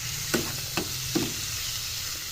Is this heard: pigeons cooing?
no